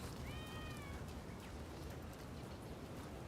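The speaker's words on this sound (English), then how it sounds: "I can hear a cat." A cat meows in the samurai action game Rise of the Ronin, a single short, faint mewing call near the start set against steady ambient background noise.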